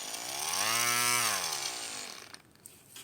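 A Proxxon variable speed rotary tool spins up to a high whine, its pitch sweeping upward and holding before winding back down, loud and close with no talk over it.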